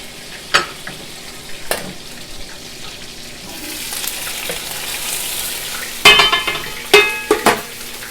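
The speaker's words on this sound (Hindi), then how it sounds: "लहसुन अदरक का पेस्ट डालूँगी। ये थोड़ा सा फ्राई हो जाएगा" Garlic-ginger paste fries in a pan while a utensil stirs it, giving a steady close sizzle with scraping strokes and a few sharp clatters toward the end. No one talks.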